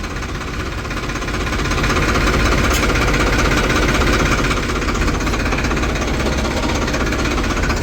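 A harvesting machine engine runs continuously during a mung bean harvest with a loud, rattling, knocking drone, steady and close throughout.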